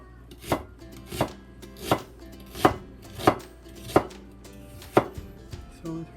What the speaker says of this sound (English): we cut the onion. We cut onion like this.